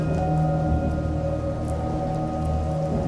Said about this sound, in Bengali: বৃষ্টির আশীর্বাদ ঝরে পড়ল স্কুল মাঠে